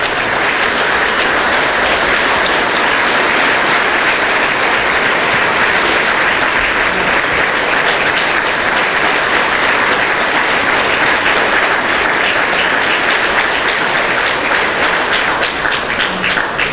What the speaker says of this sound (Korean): 다시 한번 시장님의 그동안 노고에 대하여 큰 박수로 축하드립니다.